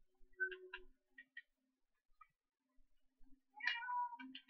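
Cats meow in the Minecraft video game, with several short mewing calls scattered across the clip, a pair early on and a louder cluster near the end, heard alone without talk.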